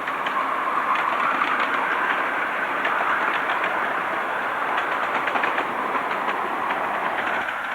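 A 7¼ inch gauge miniature locomotive from Cheshire runs steadily along the track, giving a continuous close rumble with a rapid clickety-clack of wheels over rail joints and no voices.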